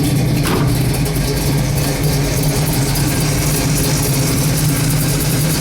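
A cold 1971 Chevrolet big-block V8 with an LS5 cam idles loud and close, a dense, steady low rumble with a faint lope and no pauses.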